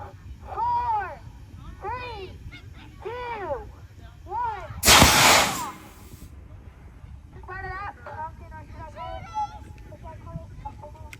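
At an autumn festival in Manhattan, Kansas, a cannon fires once, a single loud, sharp blast with a brief roaring tail. Voices and animal-like calls are heard before and after it.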